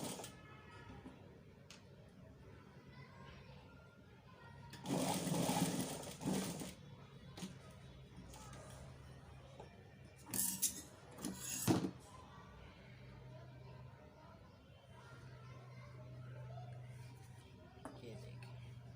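A sewing machine stitches the shoulders of a kid girl's shirt made from leftover cloth, whirring in two short bursts, with a voice talking in the quieter stretches between them.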